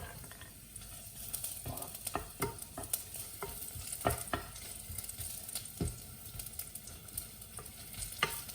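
Ginger, a cinnamon stick and star anise sautéing in hot oil, a steady close sizzle broken by repeated scrapes and knocks of stirring, with no voices.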